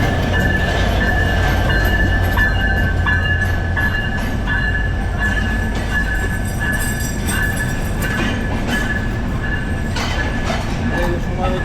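Ekota Express passenger train pulling into platform 1 of Dhaka Airport railway station, a steady loud rumble of wheels and carriages with a sustained high tonal squeal running throughout, close and continuous.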